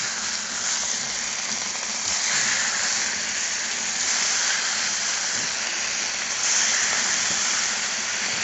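Bacon rashers frying in a pan, a steady dense sizzle and hiss holding evenly throughout, close and uninterrupted.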